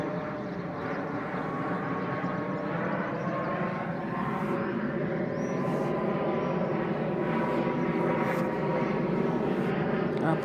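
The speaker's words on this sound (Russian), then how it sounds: "Самолет летит." A low airplane coming in to land passes overhead, a faint broad roar that swells slightly over several seconds, heard outdoors from a garden.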